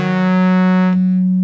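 Sine wave from the VCF output of a GX-80 synthesizer, a steady loud tone held alone, its bright upper harmonics cutting off partway so only the pure tone remains.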